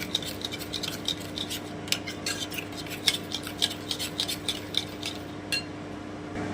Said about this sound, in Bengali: আমি খুব ভালো করে একটু ফেটিয়ে নিচ্ছি